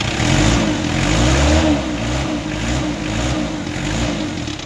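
A 1992 Isuzu Panther's engine is revved hard, then drops to a rough, throbbing idle with lighter blips of throttle, loud and close throughout.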